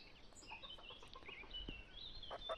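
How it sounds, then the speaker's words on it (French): A hen and a rooster clucking outdoors, faint and distant, with a few soft clucks and calls scattered over a quiet background and no talking. "c'est une poule et l'autre c'est un coq"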